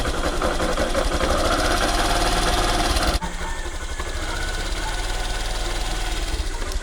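A Yamaha YTX 125 motorcycle engine idles steadily up close with an abnormal rattling, knocking undertone; the pitch and texture shift abruptly about halfway through.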